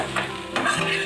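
A spoon stirs previously fried beef and onions in a pan, giving a quick scrape and a sharp clatter over a close, steady sizzle, with no talk.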